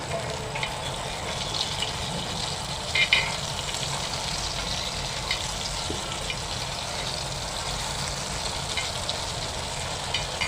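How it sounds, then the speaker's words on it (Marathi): A whole pomfret fish fries in a pan over low gas, giving a steady, even sizzle and crackle throughout with a few small pops, close and continuous with no talk. "तो आता फ्राय करायला ठेवलेला आहे स्लो गॅसवर"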